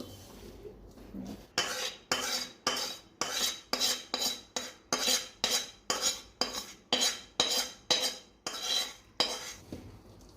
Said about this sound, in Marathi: हे मिश्रण आहे ना चांगलं मिक्स करून घ्यायचं असं.